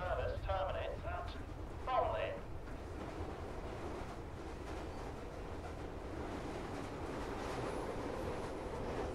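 A London Overground train in the video game Fallout London rumbles along with a steady rattling ride noise, a voice speaking briefly over it at the start.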